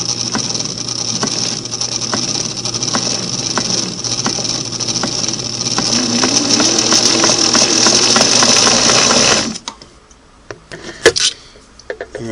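A Singer Model 513 sewing machine runs steadily at close range with a continuous mechanical whir and rapid ticking for about nine seconds, then stops abruptly, leaving a few faint clicks and knocks.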